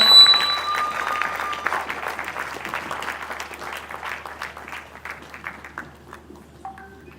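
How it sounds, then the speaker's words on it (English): Conference audience applauding in a dense burst of clapping that starts loud and gradually thins into scattered individual claps before fading out. "Please keep clapping until they are seated"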